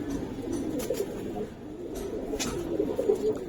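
Pakistani high flyer pigeons cooing close by, a continuous low burbling of overlapping calls with no other sounds over it.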